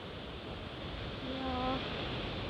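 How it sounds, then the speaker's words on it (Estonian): Ocean waves at Funchal, Madeira, wash in as a steady broad roar that swells slightly toward the end. A brief tonal sound rises over the surf partway through. "Ja siis ookean."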